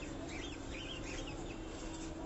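Chickens cluck softly on a rooftop in a crowded neighbourhood where fancy birds, roosters and pigeons are kept as a hobby, with steady background noise and no talk.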